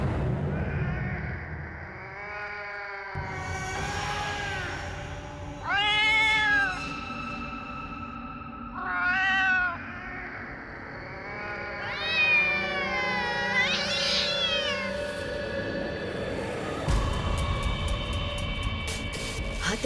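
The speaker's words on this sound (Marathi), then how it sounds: "हा तर तोच मांजरीचा आवाज आहे" A cat meows repeatedly, giving several long, drawn-out, wavering cries separated by pauses. The cries are fairly close and clear over a low background hum. No one speaks.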